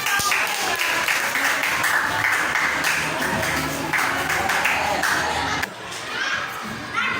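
Applause from a classroom of schoolchildren, a dense, steady patter of many hands clapping close by with excited young voices mixed in, dipping briefly near the end before picking back up.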